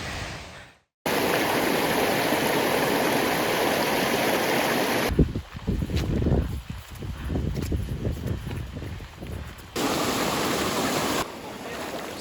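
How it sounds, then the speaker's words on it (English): Steady rushing stream water flowing close beside a trek path in Coorg, a broad continuous wash that briefly drops out, then returns with rustling and footstep-like handling noise before settling back into the even flow. "I hear streams. Sounds like it's running right next to me"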